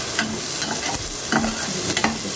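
Carrots are stir-fried for street-style Chinese bhel, a loud continuous sizzle punctuated by a few rhythmic scraping stirs of a spatula in the pan, with no voices.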